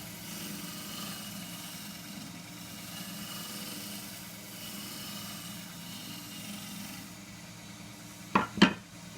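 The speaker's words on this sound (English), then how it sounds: "I'm going to use a peeling cut just to round over the top" An endgrain bowl spins on a wood lathe while a peeling cut rounds over its top rim. A steady low whirring hiss runs throughout, ending with two sharp knocks.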